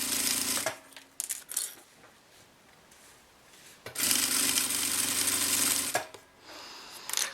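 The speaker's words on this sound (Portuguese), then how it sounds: "Costura mais na pontinha que você conseguir" A sewing machine stitches the handle of a manicure case, running in two loud bursts of several seconds each, separated by quiet pauses filled with faint handling clicks.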